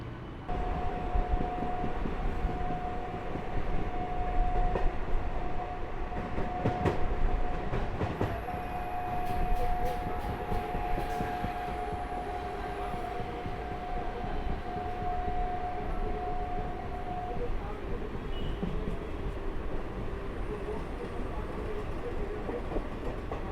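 Train running on curving track between Ranaghat and Amghata, heard as a continuous rolling rumble with rhythmic clatter, a sustained flange squeal through much of the run, and brief high screeches.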